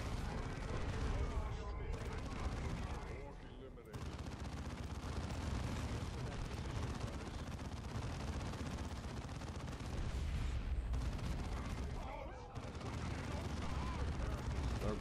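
Dense, roaring battle noise from the Dawn of War 2 campaign, grenade blasts and gunfire blending into a continuous loud wash of explosions and shots, with faint voices underneath.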